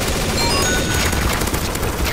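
Continuous close gunfire in the zombie escape mode of Counter-Strike: Source, a dense automatic volley filling the moment, loud with no pauses.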